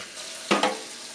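A newly installed kitchen faucet's sprayer bursts on in two quick hissing spurts over a faint background rush, close and fairly loud.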